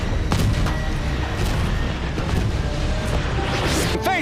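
Explosions go off on a film set, several heavy booms and crashing blasts in quick succession, loud and close.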